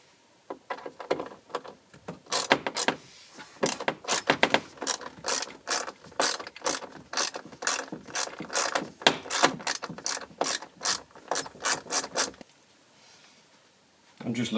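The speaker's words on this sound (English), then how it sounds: "So first we just remove the larger screws." A ratchet or screwdriver backs screws out of a Land Rover Defender TD5 dashboard, close and clear, with dense runs of sharp clicking strokes in irregular bursts separated by short pauses.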